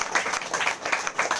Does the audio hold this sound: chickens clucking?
no